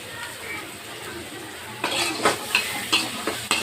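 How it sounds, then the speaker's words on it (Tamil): Crushed garlic and ginger sautéing slowly in a pan while being stirred: a soft continuous sizzle with periodic scraping strokes of a spoon against the pan, growing more distinct in the second half. "கொஞ்சம் நல்லா வதக்கட்டும். ஸ்லோவில் வச்சு வதக்கணும்."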